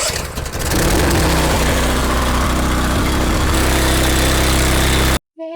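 A key-start Honda-engine pressure washer cranks and catches, then runs at a loud, steady close-range drone before cutting off abruptly near the end.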